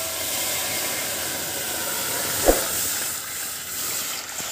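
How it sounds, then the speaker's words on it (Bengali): Water poured into a hot kadai while cooking jeera aloo gives a steady, loud, broad hiss of steam and sizzle. A short sharp knock sounds partway through, and no one talks. "এবার কড়ার মধ্যে আমি জল দিয়ে দিচ্ছি।"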